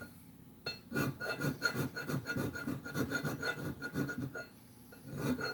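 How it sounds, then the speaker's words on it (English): A carbide scraper is pushed across aluminum in a run of close, rhythmic rasping strokes, about a dozen in steady succession over several seconds with no talking. "I am scraping aluminum with carbide"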